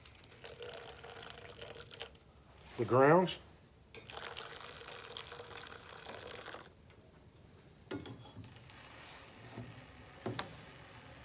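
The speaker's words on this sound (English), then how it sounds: "pour enough water in here" Water is poured over coffee grounds in a French press as a soft, intermittent splashing stream with a few short pours and pauses, while a person speaks briefly nearby.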